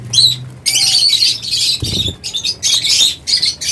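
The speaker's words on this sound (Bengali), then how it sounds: "এগুলো প্রত্যেকটা রানিং পাখি" Birds for sale at a bird market flap their wings in repeated loud, close bursts, broken by short pauses, with a few faint chirps and squawks among the flutters.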